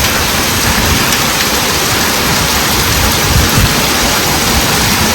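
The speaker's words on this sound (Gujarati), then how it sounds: "હવે જામનગરમાં ફૂલ ગાજવીજ સાથે વરસાદ." Heavy, steady monsoon downpour in Jamnagar roars throughout, with low rumbles of thunder rolling underneath; no voices.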